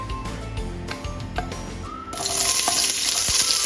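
Chopped onions hit hot oil in a pan for Filipino pork caldereta, bursting into a loud, steady sizzle halfway through after a quieter stretch of kitchen background noise.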